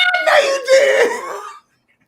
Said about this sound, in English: you got me choking. That ain't COVID. That ain't COVID cough